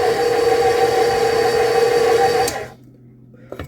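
A stand mixer motor hums steadily as it kneads sourdough rye bread dough, a loud, even whir that cuts off abruptly partway through, leaving near silence with a few small clicks.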